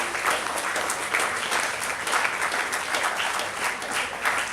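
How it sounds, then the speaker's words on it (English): Dense, steady applause from a crowd honouring teachers and coordinators at the IRC 2015 event in Jaipur, a continuous wash of many hands clapping at even loudness throughout. "Big round of applause for all the teachers."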